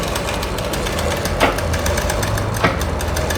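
Sewing machine running steadily while stitching a neck lining on cloth, a close continuous mechanical whir with a couple of sharp clicks partway through, and no talking.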